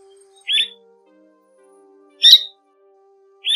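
Recorded swallow calls played as a bird lure, short high chirps repeating about every two seconds, clear and isolated over a faint steady tone.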